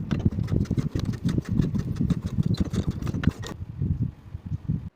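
A sewing machine stitches two front pieces of wide-leg pants from a notch to a dot, running in quick rhythmic bursts for about three seconds and then falling to a softer, lower whir.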